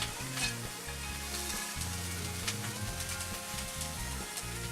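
Pork sizzling in a hot pan with garlic mojo, a dense, loud, continuous frying hiss with occasional stirring, close up and without talk.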